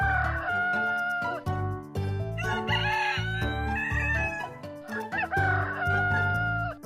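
A rooster crows over a dense bed of music in a Hindi cartoon, its call rising above the steady beat and melody.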